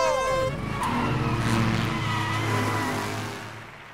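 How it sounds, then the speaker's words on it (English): A cartoon race car revs its engine and speeds off at the start of a race, a loud, sustained whining motor that sweeps in pitch and then fades slightly, with cartoon voices and effects layered on top. "Drivers, start your engines."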